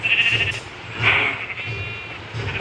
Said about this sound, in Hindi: और इन बकरियों को थोड़ा बहुत चारा खिला देते हैं।